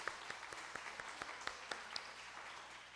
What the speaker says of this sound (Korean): 우리 민지 선생님 또 주일학교 어린이들에게 힘찬 박수 한번 보내드리겠습니다